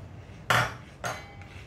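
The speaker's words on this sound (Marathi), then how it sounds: "छान मिक्स करून घ्यायचं." A spoon clinks and scrapes twice against a bowl while cocoa powder is mixed in, two short, bright metallic knocks close by in a quiet kitchen.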